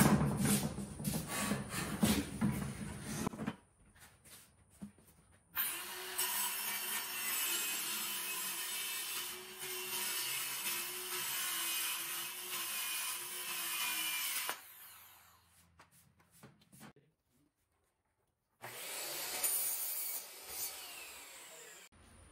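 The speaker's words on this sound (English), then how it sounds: "we're gonna wanna cut all of these strips at the same time" Wood strips for Shaker-style cabinet doors are sawn close up, cut together in one pass, with long stretches of steady rasping saw strokes broken by short pauses and quiet gaps.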